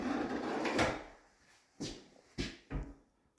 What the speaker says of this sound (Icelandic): Allar skúffur eru með ljúlokum.